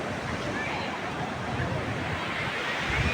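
Sea waves wash onto the shore at Colva beach in Goa. A steady, close roar of surf mixes with wind rushing across the microphone.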